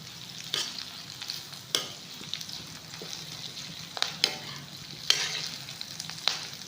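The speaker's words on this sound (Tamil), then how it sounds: "நான் கருவேப்பிலையும் இது கூட சேர்த்து வதக்கிறேன்" Curry leaves sautéing in a pan for pirandai pickle, a steady low sizzle broken by several sharp crackles and spoon scrapes as the leaves are stirred, no talking.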